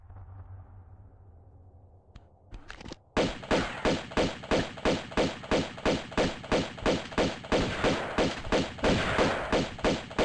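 An enemy's shotgun blasts in Tomb Raider II (1997) ring out as a long, regular train of sharp, loud reports about every half second, following a few seconds of quiet low ambience.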